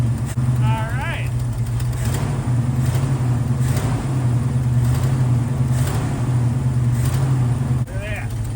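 A 1977 Ford F250 truck engine idles with a steady low rumble and a slight irregular miss, heard close up while people talk and exclaim over it.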